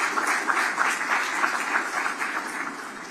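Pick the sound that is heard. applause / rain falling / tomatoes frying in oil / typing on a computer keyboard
applause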